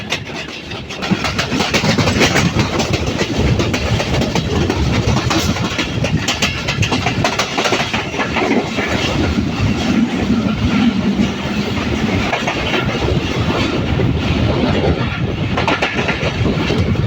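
The Tungipara Express rolls through Adimnagar railway station in Bangladesh, heard from on board as a loud, continuous rumble with steady clattering of wheels on the rails throughout.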